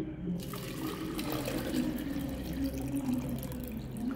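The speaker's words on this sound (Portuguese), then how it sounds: "eu vou adicionar aqui, ó, água filtrada." Filtered water pours into a container for a homemade plant irrigation setup, a continuous close splashing trickle that carries on steadily with no one speaking.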